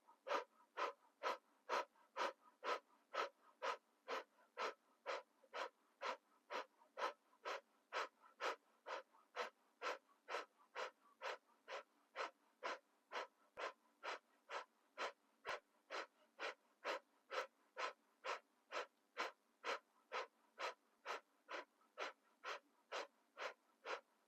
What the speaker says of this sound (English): keep that breath of fire, that navel engagement, pulling it back on the exhale through an O mouth